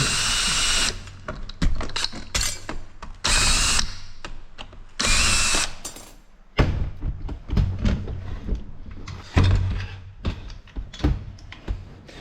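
A power tool whirs in loud, close bursts while the fuel tank is being removed from a brush cutter engine during restoration, with quieter clicks and handling noises in the gaps.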